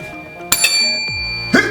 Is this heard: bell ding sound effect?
yes